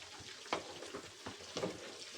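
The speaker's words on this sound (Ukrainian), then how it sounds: "І вже поставила, смажиться жир." Pork fat sizzles and crackles quietly in a pot, rendering for lard, a soft steady frying hiss with occasional louder pops and stirring sounds.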